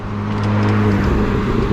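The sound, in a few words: car passing by fast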